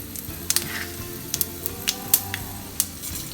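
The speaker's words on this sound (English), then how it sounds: "We will let these simmer in the oil for a little bit" Peppercorns and whole spices sizzle in hot oil in a kadhai for paneer, a steady close hiss broken by sharp, irregular pops and crackles.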